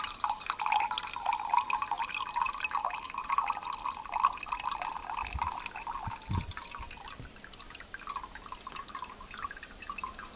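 Water runs in a steady, crooked trickle from a hole punched in a lid, a continuous close splashing with small drips through it and no voices.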